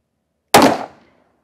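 A single sharp gunshot from a Smith and Wesson 629 Competitor revolver, loud and close, with a short decaying echo trailing after the crack.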